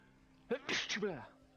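A single sharp sneeze bursts out close up against quiet room tone, with a short voiced sound trailing off afterward.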